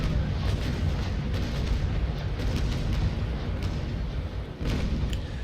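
A continuous rumbling barrage of sailing-ship cannon blasts in the video game Naval Action, booming heavily and close with little break, and no talking over it.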